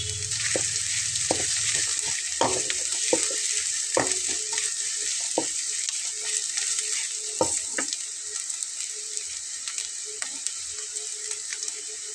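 Dried red chilies sizzle in hot oil, a steady bright frying hiss carrying sharp crackles and pops, with occasional stirring knocks, close and without speech.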